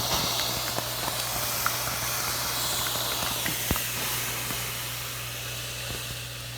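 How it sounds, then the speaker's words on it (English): A steam iron hisses over a crocheted square pinned to cardboard, a steady close breathy hiss with a few soft taps and clicks, fading slightly toward the end. "Then I'm going to take an iron and steam it."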